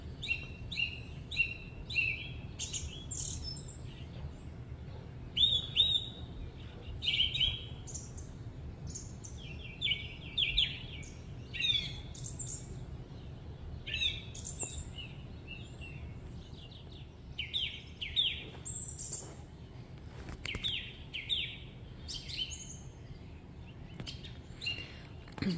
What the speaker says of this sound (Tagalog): Maririnig mo lang yung mga ibon.